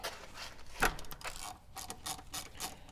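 Close ratcheting clicks from a ratchet with a 17mm socket loosening brake caliper bolts on a Toyota 80 Series, a steady run of quick, fairly faint metallic ticks with one sharper knock, no talking.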